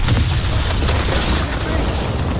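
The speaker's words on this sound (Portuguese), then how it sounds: "Detonação secundária perto da farmácia!" Secondary explosion in the Call of Duty Modern Warfare video game, a loud, sustained rumbling blast with crackling debris that fills the whole moment without any speech.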